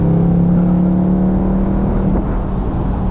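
A 2024 Ford Mustang GT convertible's Coyote V8 engine roars loudly and steadily up close, a deep sustained drone with a slight dip near the end and no talk.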